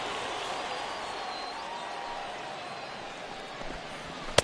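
Steady baseball stadium crowd murmur in a video game, an afternoon Reds at Indians matchup as fans fill the stands, a continuous broad wash of distant voices with a sharp crack near the end.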